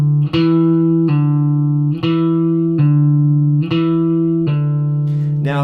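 Guitar hammer-ons and pull-offs played in a steady pick-and-pull pattern, sustained notes alternating with short plucked attacks about once a second, loud and close with no talking.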